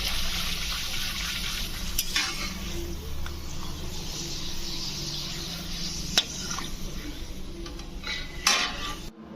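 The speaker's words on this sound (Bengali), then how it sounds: "আমি এসেছি পাঁপড়টা ভেজে নিই।" Papad fries in hot oil with a soft, steady sizzle close by, broken by a few sharp clinks of a utensil against the pan.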